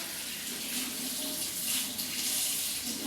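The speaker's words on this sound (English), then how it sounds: "Now I need to wash off my hands with real water." Tap water runs steadily into a sink during handwashing, a continuous close hiss and splash with no talking.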